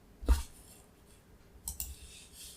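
Mouse clicks in Cheat Engine: two quiet, sharp clicks, one near the start and a close pair about a second and a half later, over faint background hiss.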